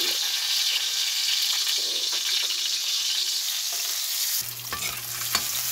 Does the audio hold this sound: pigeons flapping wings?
no